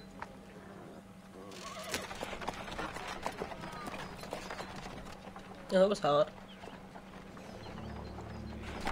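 Horse hooves clop in the video game Assassin's Creed 3, a soft run of hoofbeats under in-game talk, with a short louder burst near the end.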